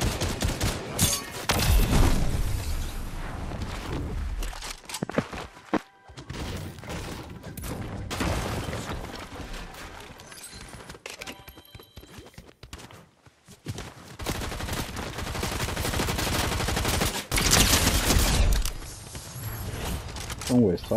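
Rapid gunfire rings out in a Fortnite Zero Build trios match, with loud bursts of automatic shots and clicking weapon mechanics separated by short pauses, heavy near the start, the middle and the end.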